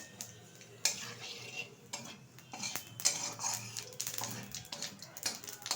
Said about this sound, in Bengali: এখন এই মাছ ভাজার তেলে দিয়ে দিচ্ছি কিছুটা গোটা জিরে ফোড়ন